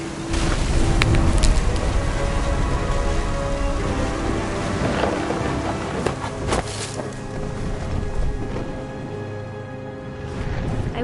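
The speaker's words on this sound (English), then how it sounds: "The thunder sounded much too close and full of angry power." Heavy rain pours steadily in What Remains of Edith Finch while thunder rolls and cracks close by, loud and full, with the downpour hissing throughout.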